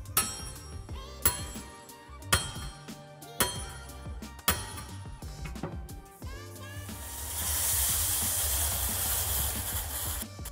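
An AI-generated steam hiss sound effect: a few sharp metallic strikes ring out first, then a broad, steady hiss of escaping steam takes over and continues loudly to the end.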